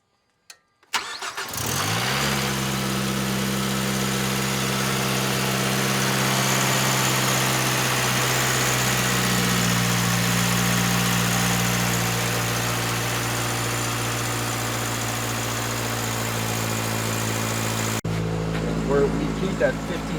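A Mazdaspeed 3 engine cranks briefly, catches and then settles into a steady, loud idle that holds for most of the clip, with a small shift near the end, after work on a low fuel pressure fault.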